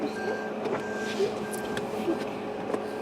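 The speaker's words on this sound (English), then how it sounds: "Somebody is backing out." A vehicle backing out in a parking area gives off steady, evenly spaced reversing beeps at moderate distance, over a low background hum.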